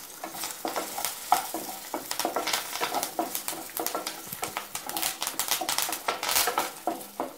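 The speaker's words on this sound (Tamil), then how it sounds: "காஞ்ச மிளகாய் போட்டுக்கலாம்." Dried red chillies fry in a pan for a coriander chutney, crackling and sizzling up close in busy, irregular pops while being stirred, with no voices.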